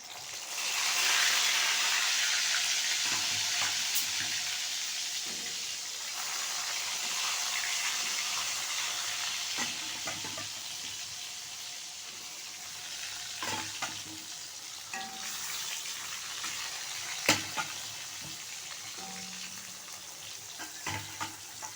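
Sliced pointed gourd (potol) sizzles and crackles in smoking-hot oil in a kadai, a loud frying hiss at first that settles into steady bubbling, broken by scattered clinks and stirring taps.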